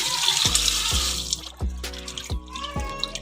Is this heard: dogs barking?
no